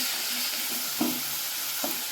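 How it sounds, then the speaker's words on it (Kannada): Samosa filling being stirred in a pan just after salt goes in: a faint, soft scrape and a couple of light spoon knocks over a low, steady sizzle. "ಉಪ್ಪು ಹಾಕಿ ಎಲ್ಲ ಮಿಕ್ಸ್ ಮಾಡಿಕೊಂಡು"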